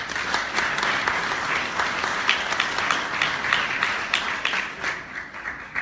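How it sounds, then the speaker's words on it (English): An audience at a talk gives a round of applause, a steady, dense patter of many hands clapping together that stays full and even before thinning slightly near the end. "Please give them a round of applause."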